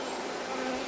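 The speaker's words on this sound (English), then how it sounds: "Sure is a whole lot of bees in this nook." Honey bees crowd a nook of a beehive frame, a dense, continuous close-up buzzing hum that stays steady through a brief moment with no talking.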